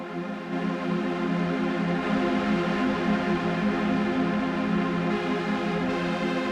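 A sustained tone from a Novation Peak synthesizer plays alone as a rich, steady ambient pad with layered harmonics, holding at an even level for several seconds.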